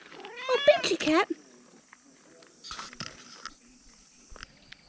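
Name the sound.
cat Benji meowing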